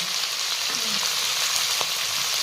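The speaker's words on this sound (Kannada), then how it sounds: "ನಾನು ಮೆಂತ್ಯ ಸೊಪ್ಪು ಫ್ರೈ ಮಾಡ್ಕೊಂಬಿಡ" Fenugreek leaves frying in oil for a paneer dish, a steady broad sizzle running throughout, with a couple of faint clinks from a utensil partway through.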